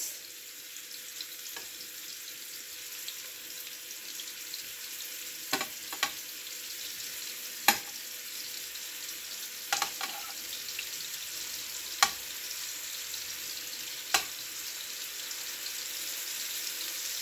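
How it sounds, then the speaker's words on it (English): Meatballs frying in a pan, a quiet continuous sizzle broken by several sharp pops and spits spread through the stretch, with no voices. "I'm going to fry my meatballs on all sides."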